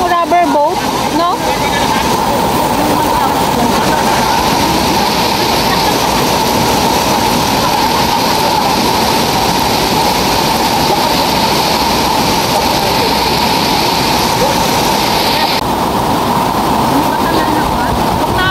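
Loud, steady roar of rushing flood water across a road during a typhoon, filling the whole clip, broad and continuous, with voices faintly underneath.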